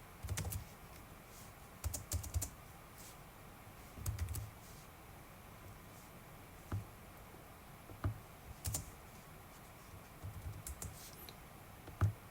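Keys tapped on a computer keyboard while a circuit simulation netlist is entered, coming in short scattered bursts of soft clicks between pauses, quiet and close with no voices.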